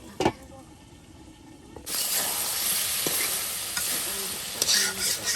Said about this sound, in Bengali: ভাজা ভাজা ভাজা মাংস তারপরে হালকা একটু পানি দিয়ে